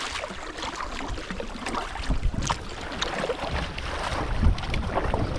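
Big swells on a large lake slosh and slap around a small boat during a crossing to an island, a steady rush of water with gusty wind noise across the microphone and no talk.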